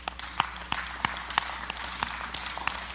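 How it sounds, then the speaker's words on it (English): Church congregation clapping during a sermon, a sparse, uneven patter of individual claps with a few sharp, distinct hand strikes standing out rather than a full ovation. "I know you're clapping"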